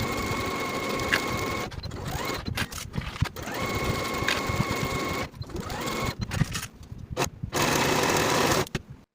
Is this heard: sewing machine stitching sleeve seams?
yes